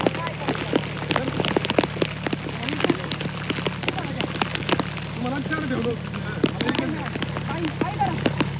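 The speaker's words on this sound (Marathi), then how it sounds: "जोरात पाऊस आल्यामुळे बघा असं खायला लागते." Heavy rain pours steadily on a rice paddy field during transplanting, a dense continuous hiss with sharp drop impacts throughout, while a person talks over it.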